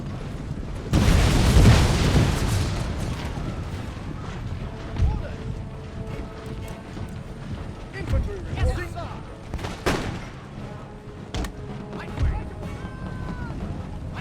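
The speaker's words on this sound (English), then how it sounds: "What we're going to do is get some grenades on them." Grenade explosions and gunfire from the musket-era battle game Empire: Total War: a loud, heavy boom bursts near the start, followed by scattered bangs and shots over a busy battlefield din.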